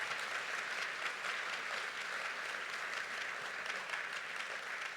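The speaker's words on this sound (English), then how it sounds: "Let's have a round of applause for Mercia." Evening storytelling event audience giving a round of applause, dense steady clapping heard from a distance, fairly faint but continuous for the whole stretch, with no talk over it.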